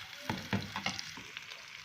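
Chicken frying over a medium flame in a karahi for white chicken karahi, a quiet steady sizzle with a few soft stirring clicks and scrapes over under two seconds.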